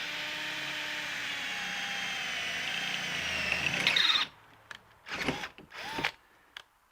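A power drill whines steadily for about four seconds as it bores through a pipe, then stops, followed by a few short bursts of the drill.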